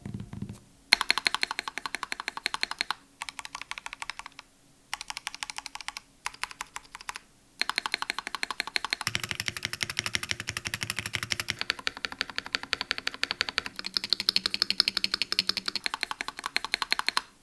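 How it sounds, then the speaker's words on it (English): Someone types steadily on a Ducky mechanical keyboard with smooth linear switches and deep, thocky stabilized larger keys. The keystrokes are rapid and continuous, with a few short pauses, recorded close and clear with no talking. "Now the typing experience with this thing is a little mixed for me."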